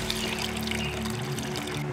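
Water poured to fill the bowls and reservoir of a water fountain fire feature, a continuous close pouring and trickling stream over a steady low hum, with no talking.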